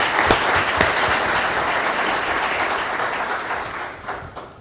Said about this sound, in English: I think we owe you a round of applause for the work that you've